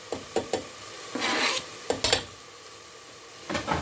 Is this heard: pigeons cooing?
no